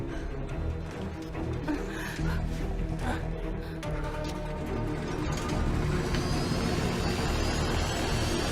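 A small airplane's engine roars and builds as the plane takes off during a fire, a loud, continuous jet-like hum that swells in the second half.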